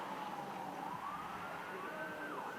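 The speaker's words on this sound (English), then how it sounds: "In the distance now, you can hear the sirens of an ambulance moving in." An ambulance siren wails far off at a night high school football game, its faint rising and falling tone drifting over a steady crowd and ambient hum.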